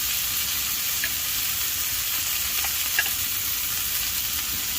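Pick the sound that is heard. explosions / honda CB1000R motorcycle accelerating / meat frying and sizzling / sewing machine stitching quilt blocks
meat frying and sizzling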